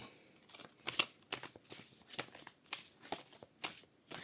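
Tarot cards being shuffled by hand, a run of crisp riffling bursts and soft slaps repeating every half second or so, close and clear with no talking.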